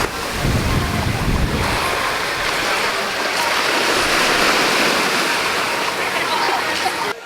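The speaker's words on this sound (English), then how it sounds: "It's so quiet except for the waves crashing" Steady roar of surf washing against the shore at Basseterre, St. Kitts, a continuous broad rush with some wind noise, loud and near.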